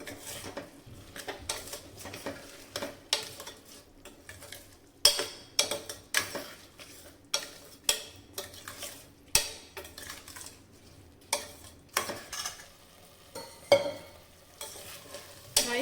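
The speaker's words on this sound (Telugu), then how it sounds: "ఎక్సెస్ వాటర్ అనేది లేకుండా రైస్ని ఫ్రై చేసుకుందాం" Washed rice is stir-fried in a pan with salt and garam masala, with regular scraping strokes of a spatula and a light sizzle repeating steadily, close and alone.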